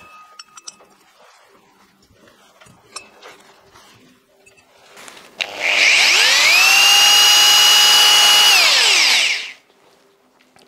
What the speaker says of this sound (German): Ist es eventuell okay, den Anfang mit Schlag zu machen, damit der Bohrer schon mal eingesenkt ist?